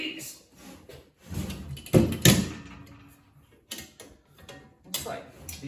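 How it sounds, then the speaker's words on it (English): A hand tool works stock brackets loose from a 2020 Mitsubishi Outlander hybrid battery charger, giving close ratcheting clicks and metallic clunks in uneven bursts between pauses, with a person talking at times. "here I'm just gonna remove these brackets, stock brackets"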